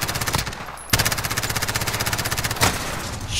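Rapid automatic gunfire from a Call of Duty: Modern Warfare match, loud and close, with rhythmic bursts of shots running almost continuously and a brief pause before the firing resumes.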